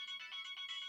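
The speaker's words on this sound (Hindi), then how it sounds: "आपका फोन बज रहा है।" A phone ringtone plays a rapid, pulsing electronic melody, loud and close, with no voices over it.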